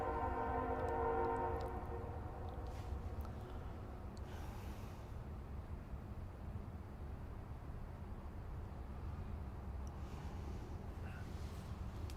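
A train passes close by, sounding a long horn blast near the start, then a steady loud rumble of rolling cars continues throughout, with no talking.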